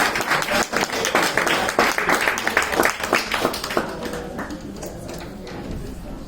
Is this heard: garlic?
no